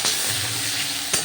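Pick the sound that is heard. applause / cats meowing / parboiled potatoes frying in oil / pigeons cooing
parboiled potatoes frying in oil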